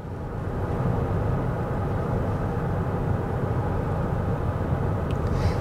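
Inside a 2022 Toyota Mirai hydrogen fuel-cell car cruising at 70 km/h, a steady, muted low rumble of road and tire noise fills the cabin without change, with no voices.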